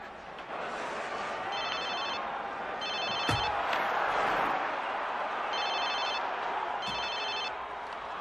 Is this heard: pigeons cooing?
no